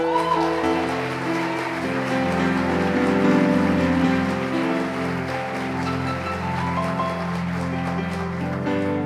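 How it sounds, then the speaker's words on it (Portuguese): A church congregation applauding, a dense continuous patter of many clapping hands filling the room, steady and fairly loud throughout with a musical drone underneath. "Você pode aplaudir o Senhor?"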